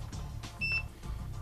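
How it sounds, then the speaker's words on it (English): A multimeter gives a short, high, clear continuity beep while testing a fuse in an Apple IIc power brick, a single tone lasting about a fifth of a second over a low room hum. "I'm just going to check continuity across the fuse here, and we get the beep"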